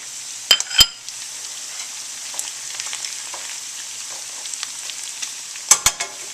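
Chicken and carrots fry in a pan with a soft, continuous sizzle, with a few sharp scrapes and clatters of stirring near the start and end.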